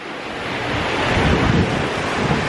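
Ocean waves and surf with steady wind noise on an open sea during an Atlantic sailing crossing, whitecaps all around; a continuous broad rush that swells slightly in the middle, with no talk.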